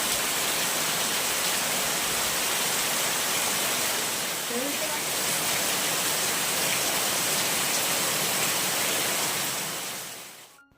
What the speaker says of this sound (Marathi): भरपूर असा पाऊस पडतोय म्हणजे रात्रीपासून खूप असा पाऊस पडतोय